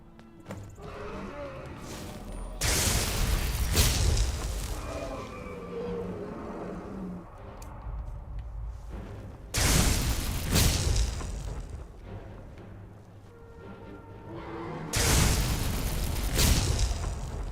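Dragon attacks in the game Skyrim come as three loud roaring, fiery blasts spaced several seconds apart, over quieter game ambience.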